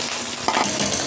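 Cooked rice goes into a wok where cashews, raisins and paneer have been frying, producing a short burst of close sizzling and a scraping stir over a constant frying hiss.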